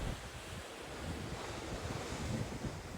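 Ocean waves and wind buffet the deck of a cruise ship far out in the middle of the Pacific, a steady broadband rush with gusty wind noise on the microphone and no voices.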